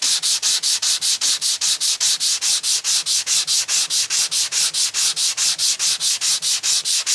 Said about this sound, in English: But it's sanding pretty well actually.